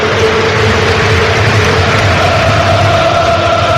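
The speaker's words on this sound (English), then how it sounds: "Rumble of noise you can hear is from the Tottenham fans." A dense, steady rumble of a large football crowd of Tottenham fans fills the stadium at Fulham, broad and continuous without distinct voices standing out.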